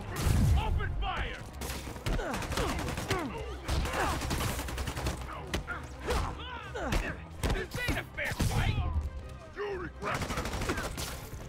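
Enemy gunfire crackles in Marvel's Spider-Man Remastered on PC, a busy stream of sharp shots and impacts over roughly eleven seconds, mixed with in-game voices and fight noise.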